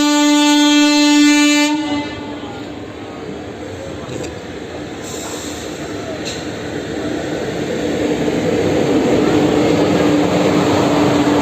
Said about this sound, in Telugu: మరొక రైలు ఎదురు వస్తుంది.